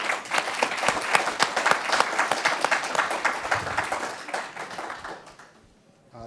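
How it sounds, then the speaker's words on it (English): An audience gives a warm round of applause to welcome an acting ICE field office director, with crisp, continuous clapping close up that fades out at the end. "if you give him a nice round of applause"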